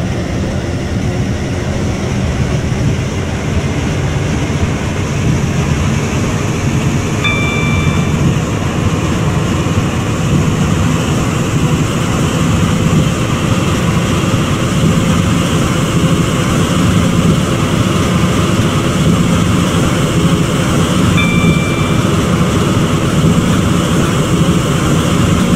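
Class 331 train in the Roblox game Stepford County Railway, a steady, loud, unbroken running rumble with broadband hiss and two faint high tones partway through, no voices.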